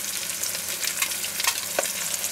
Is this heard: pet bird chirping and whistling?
no